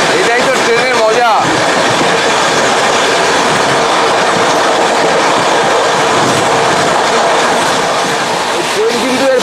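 The Himgiri Express runs at high speed on the rails, a loud continuous rumble with rhythmic wheel clatter and brief squeals near the start and end. A voice talks in the background.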